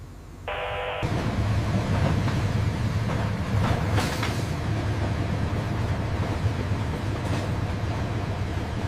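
A long freight train carrying military hardware rolls along the main railway network, a loud, sustained rumble and clatter of wagons close by, with faint clicks and squeals over the steady roar.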